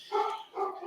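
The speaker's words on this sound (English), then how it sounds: "now my dogs are barking" Dogs bark twice in quick succession, fairly close and clear, with no one speaking over them.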